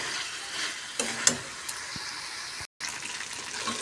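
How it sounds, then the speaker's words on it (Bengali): Meat being stir-fried for kosha sizzles steadily in a pan, with a few scraping stirs and a brief clatter breaking through the constant frying hiss. "মাংসটা ভালো করে কষতেই থাকছি"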